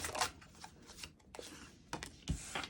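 Tarot cards shuffled for a reading, quick papery riffles and flicks in short bursts, fairly quiet and close, with no talking.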